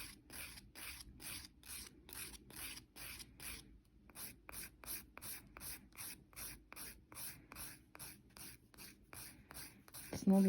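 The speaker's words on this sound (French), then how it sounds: "Je vais venir ensuite limer sur le dessus de la prothèse pour être sûr que ça soit égal avec notre ongle naturel aussi." A nail file rasps across the top of an artificial nail tip during a resin and powder manicure, about two dozen quick rhythmic strokes, close and soft, with a short pause partway through.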